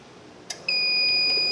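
A brief click, then a countdown timer's high electronic beep sounds and holds steadily, loud and close, continuing to the end.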